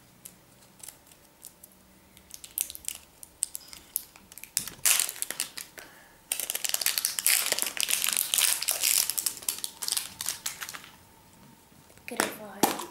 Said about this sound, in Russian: Давайте распакуем первое яйцо.